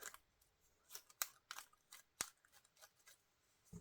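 Scissors cutting paper acer leaves for a collage, a quiet close sequence of crisp snips with two sharper clicks of the blades, alone with no talking.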